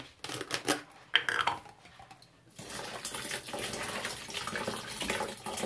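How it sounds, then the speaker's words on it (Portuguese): Ice water is poured into a blender, ice clinking, rattling and splashing up close, then a steady rushing pour continues. "Vou colocar essa água aqui, ó, que ela tá com gelo dentro."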